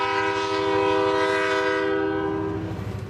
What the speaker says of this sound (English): there might even be a train that comes through as we are speaking right now